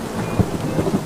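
Steady rain with rumbling thunder on a street, a deep roll swelling near the middle and more low booms toward the end, with no voices.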